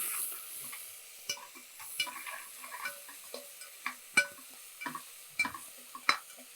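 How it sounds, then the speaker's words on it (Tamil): Ginger-garlic paste with green chillies sizzles softly in a frying pan for Punjabi mutton biryani while a spoon stirs it. Irregular scrapes and sharp ticks of the utensil against the pan sit over a quiet, steady fry. "இஞ்சி பூண்டு பேஸ்ட்டு இதை வந்து நம்ம என்ன செய்யணும்னா அப்படியே நல்லா மிக்ஸ் பண்ணி விட்டுடலாம்"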